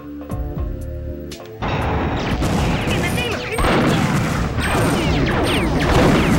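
Gunfire in the video game Perfect Dark: loud, dense, rapid shots and crashing impacts that start suddenly and continue under a busy game soundtrack.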